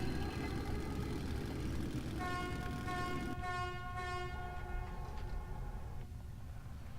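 A train horn sounds in the video game Metro 2033, a loud sustained multi-tone blast over rumbling rail noise, cutting off and returning briefly before the clatter fades.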